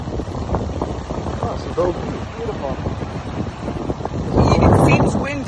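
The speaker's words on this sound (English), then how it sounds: "It seems windy because it is." Wind buffets a microphone outdoors in a steady low roar that grows stronger near the end, with people talking underneath.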